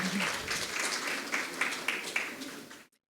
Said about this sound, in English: Please give a big round of applause to Huzaifa.